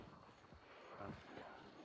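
A horse in the Hunt Showdown video game clip-clops along, faint hoofbeats under a steady hiss of ambient game noise.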